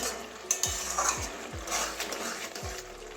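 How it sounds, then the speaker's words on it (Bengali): Spinach paneer being stirred and mixed in a frying pan, with a steady sizzle under several scraping, knocking strokes of a spoon against the pan at an uneven rhythm. "ভালো করে মিশিয়ে নেবো"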